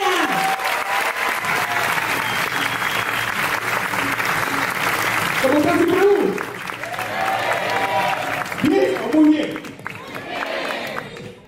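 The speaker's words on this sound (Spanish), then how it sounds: "Ayúdenme a recibir con un fuerte aplauso al próximo" An audience at a success-story business event bursts into loud, sustained applause, dense clapping from a crowd that stays strong for several seconds, then thins and swells again with a few voices mixed in.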